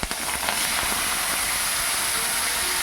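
Potatoes and onions fry in a pan for a Bengali eggplant-and-hilsa curry with black cumin and green chillies, a steady broadband sizzle and hiss running continuously and close throughout.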